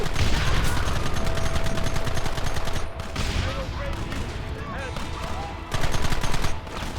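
Gunfire in the video game Red Dead Redemption, a dense, loud fusillade of overlapping rifle shots that thins briefly in the middle and then swells again, with shouted voices mixed in.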